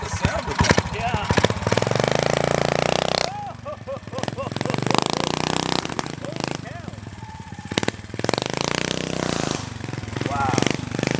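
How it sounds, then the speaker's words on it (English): Mini dirt bike engine revving and running, a loud buzzy motor rising and falling in bursts, with people talking excitedly over it. "It sounds like a legit motorcycle."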